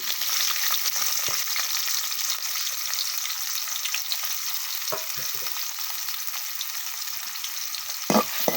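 Chopped onions go into hot oil for a beef curry, setting off a loud, steady hiss of frying that runs throughout, with a few soft clinks and scrapes near the end.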